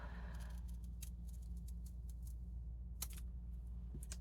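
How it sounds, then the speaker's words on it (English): Scissors cutting a folded paper snowflake, a series of quiet, close, crisp snips spread irregularly over a low steady background hum. "you'll have to open and close the scissors fewer times"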